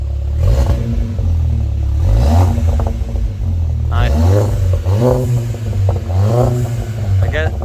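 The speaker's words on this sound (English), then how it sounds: "let's give her a couple revs" A Volkswagen MK7 Golf GTI engine revving repeatedly with a loud, raspy AWE cat-back exhaust with a couple of leaks, several sharp rises and drops in pitch, close by.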